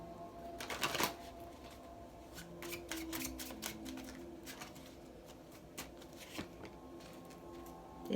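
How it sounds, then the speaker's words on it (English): Soft riffling and tapping of tarot cards being shuffled, a quick burst then scattered flicks, faint and close with no talk. "Cards don't want to shuffle."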